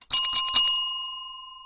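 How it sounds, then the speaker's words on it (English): A single bell struck once and left ringing, a bright metallic strike with a few quick shimmering repeats at the start before a long, clear sustained tone slowly decays, loud and alone. "I'm going to hit the bell."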